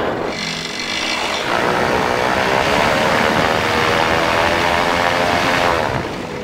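A Peabee XC flexwing microlight powers up for takeoff from a grass strip, its engine and propeller rising to a loud, sustained drone that holds steady to the end.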